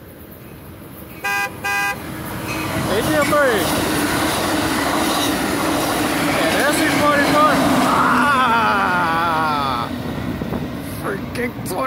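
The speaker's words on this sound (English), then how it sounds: "we got an incoming San Joaquin train 714 coming in" An Amtrak San Joaquin passenger train, SC-44 locomotive 2104 with cab cars, rolls in southbound with a loud clattering rumble, horn blasts sounding near the start and again as it passes close by.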